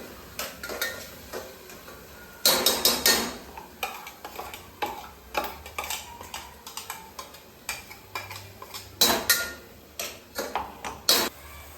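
Spoon clinks and scrapes against a pan as a mint, coriander and green chili masala is stirred and fried, giving irregular close metallic taps and scraping with soft frying underneath and no talking.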